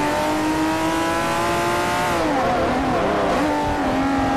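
A Saleen S5S engine revving in the racing game Forza 4, a loud steady sports-car drone that climbs, dips and pulls up again for several seconds with no voices.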